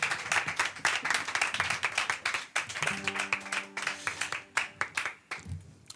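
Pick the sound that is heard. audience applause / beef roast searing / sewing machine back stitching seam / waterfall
audience applause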